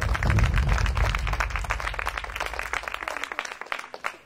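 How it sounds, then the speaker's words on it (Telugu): An audience claps loudly at a Christian gathering, a dense burst of applause that thins into scattered individual claps before stopping. "కొట్టు చప్పట్లు గట్టిగా"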